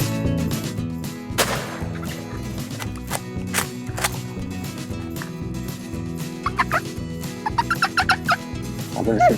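Wild turkey gobblers call during a spring hunt, with loud, close gobbles bursting out repeatedly and bunching into quick rattling runs toward the end, mixed with softer clucks.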